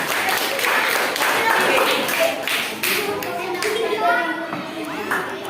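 Students clap in a classroom, a burst of applause with repeated hand taps and children's voices chattering over it, fairly loud and close, easing off toward the end.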